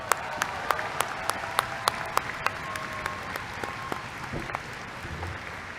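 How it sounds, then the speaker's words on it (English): Applause from a university engineering commencement audience for a professor, fairly quiet and distant, with a few sharp, close individual claps standing out in a regular rhythm over the softer crowd clapping. "Let's give him a round of applause."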